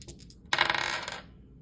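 Two dice clatter onto a hard surface during a Knockout 9 game, one sharp rattling burst that rings briefly and fades, preceded by a few faint taps.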